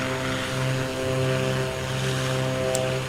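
Twin-propeller Beechcraft Baron engines drone in a flight simulator game, a loud steady hum with layered tonal harmonics that swells slightly and holds throughout, with no talking.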